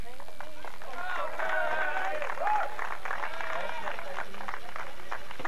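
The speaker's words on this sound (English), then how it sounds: "Now we know why everybody was clapping." Whole crowd clapping and applauding at a 4-H fair arm wrestling championship, a dense continuous wash of claps with voices of the crowd mixed in throughout.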